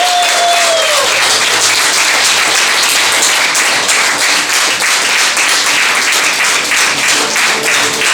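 An audience at a regional awards ceremony in Veliuona applauds in loud, dense, sustained clapping that fills the whole stretch without a break.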